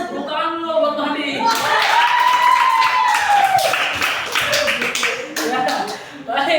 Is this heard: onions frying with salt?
no